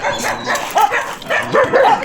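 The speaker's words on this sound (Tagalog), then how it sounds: "Yung aso." A dog yips and barks repeatedly in short bursts close by, with excited, slightly whimpering calls amid background noise.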